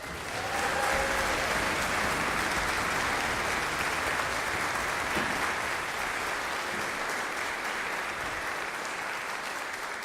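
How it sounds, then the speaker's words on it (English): Sustained applause from a concert audience for a youth brass band at a Christmas brass concert, a broad, even wash of many hands clapping at moderate distance, steady throughout. "to have another round of applause for the mighty Massanutten Youth Brass Band"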